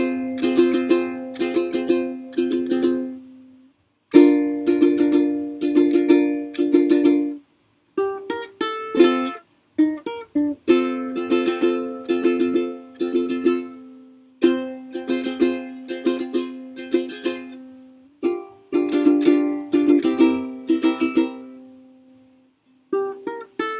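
Ukulele picking the closing riff of the Beatles' Norwegian Wood twice through, bright plucked notes with short pauses between phrases, played solo and close with no voices.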